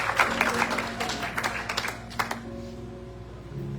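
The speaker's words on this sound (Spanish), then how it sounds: "Un aplauso, por favor." Church congregation applauding their pastor at a Spanish-language service, a brief round of clapping that fades after about two seconds into a quieter room with a sustained low tone underneath.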